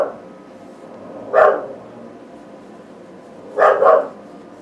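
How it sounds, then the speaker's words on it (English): A small dog gives two short, close bursts of barking, a single bark followed by a quick double bark, with quiet room tone between. "Let's wait for her to stop barking."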